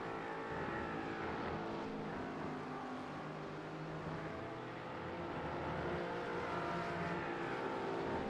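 A Porsche GT4 race car in the iRacing sim at Donington Park, with a steady, loud engine drone and a continuous rising and falling tone.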